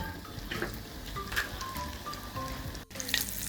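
Food sizzling steadily in a frying pan as it is flipped to cook both sides evenly in a home kitchen, a continuous close hiss with a few brief clatters and a short break near the end.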